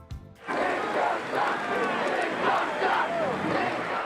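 A large crowd roars and shouts together at the Disco Demolition at Comiskey Park, a 50,000-strong gathering during a White Sox doubleheader, rising suddenly after a brief quiet start and holding as a dense, loud, swelling din.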